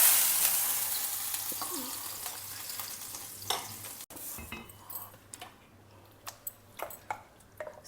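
Thick batter of a quick South Indian breakfast on a hot tawa, with a loud sizzling hiss at first that fades over several seconds, followed by light clinks and scrapes of a utensil close by.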